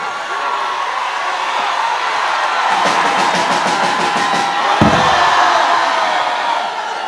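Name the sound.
concert audience standing, cheering and applauding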